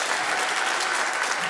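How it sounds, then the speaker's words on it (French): A dense, steady wash of audience applause for a singer, loud and close, continuous without breaks and with no voices rising above it. "On l'applaudit très très fort"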